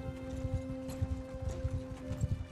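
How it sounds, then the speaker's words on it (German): Horses galloping in the video game Mount & Blade II Bannerlord, a steady rapid clip-clop of several hooves over a constant tonal hum, moderately loud and continuous. "Die haben Pferde."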